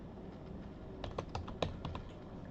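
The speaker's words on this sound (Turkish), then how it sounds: "Arkadaşlar CASA yazıyorum." Quick, light clicks of typing on a computer keyboard, with a short burst of sharper keystrokes in the middle over a steady low room hum and no talking.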